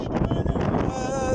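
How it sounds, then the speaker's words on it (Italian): Strong wind buffets the microphone with a loud, continuous rushing roar, a faint voice barely audible underneath. "È arrivato il vento forte, ragazzi."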